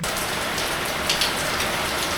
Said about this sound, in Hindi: भाई बाहर बहुत जोर की बारिश हो रही है